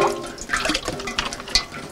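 Rainwater poured out of a bucket in a flooded upper-floor apartment, a short splashing and gurgling pour of about two seconds, close and fairly steady with brief drips near the end.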